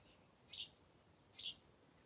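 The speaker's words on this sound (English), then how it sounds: "But then you've got the birds tweeting away" A pair of robin chirps rings out, one around half a second and another near one and a half seconds, each brief and high over quiet background hiss.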